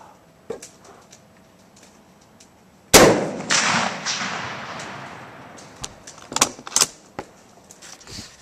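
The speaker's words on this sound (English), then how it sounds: "I'm going to use the Moss and Nagant to shoot it" A single loud, sharp Mosin-Nagant 7.62 rifle shot outdoors at a farm, fired at a coke can about 25 to 30 yards away, cracking abruptly and ringing off into a decaying echo, followed by faint clicks and handling noises.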